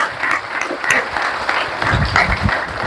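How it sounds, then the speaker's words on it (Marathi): Audience clapping together at a devotional gathering marking a guru's death anniversary, a dense steady applause of many hands held for a few seconds, fairly close and loud. "एकदा टाळ्या वाजवा तुम्ही सगळ्यांनी"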